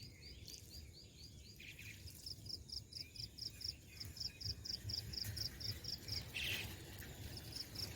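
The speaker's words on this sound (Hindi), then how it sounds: "ये कुछ एडिटेड साउंड नहीं है, असली में इतनी चिड़िया के पीछे चहचहा रही है।" Small birds chirp in quick repeated trills outdoors, faint and a little distant, with insects buzzing softly in the background.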